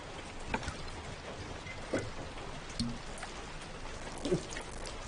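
Rain falls outside as a steady, soft patter with scattered drips and a few louder splashes, faint and continuous throughout.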